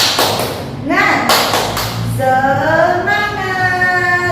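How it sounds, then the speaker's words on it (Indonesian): A first-grade class does a rhythmic clapping chant, a few sharp claps followed by children's voices chanting together in unison, all close and lively in a classroom. "Tepuk semangat."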